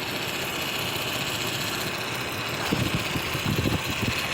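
A Ford Explorer idles with its A/C compressor running steadily, giving a constant low mechanical hum and rumble; a few louder low thumps and knocks rise toward the end, with no talking.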